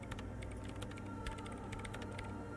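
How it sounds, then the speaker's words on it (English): Rapid typing on a computer keyboard in the video game Disco Elysium. The key clicks come in quick, irregular bursts over a low steady hum. "her hands typing hundreds of commands into the machine."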